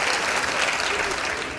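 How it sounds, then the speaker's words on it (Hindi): Audience at a mushaira clapping loudly, a dense sustained burst of applause from a crowd, close and continuous for its short span. "एक बार जोरदार तालियां फिर से बजाइए"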